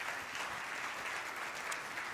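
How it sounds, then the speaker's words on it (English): Applause from the audience at a Young Life sponsor banquet, a steady, even wash of many people clapping, fairly faint and distant. "so give them a round of applause."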